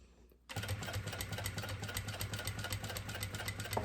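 A sewing machine starts abruptly and runs at a fast, even stitching rhythm through fabric, close and steady, with a small knock near the end.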